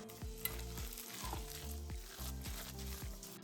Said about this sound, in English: I'm gonna stir that all around.